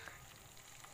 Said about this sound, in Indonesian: kita goreng semua bahan hingga setengah matang